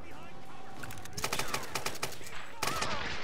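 Bursts of gunfire in the game Tomb Raider, a rapid string of sharp shots rattling in clusters over a couple of seconds, with a voice speaking around them.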